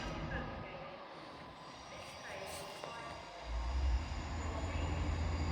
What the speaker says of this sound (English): This is a train that brought me in from Selby this morning.